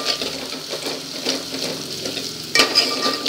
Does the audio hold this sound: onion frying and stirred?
yes